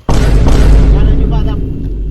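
A sudden loud boom erupts and rumbles on as a dense, roaring blast that slowly fades, heavy in the low end, with a voice faintly underneath.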